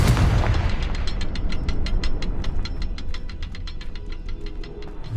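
A Confringo spell explosion in the video game Hogwarts Legacy: a loud, deep boom up front that rumbles on, followed by a rapid train of sharp crackling clicks that slowly fade.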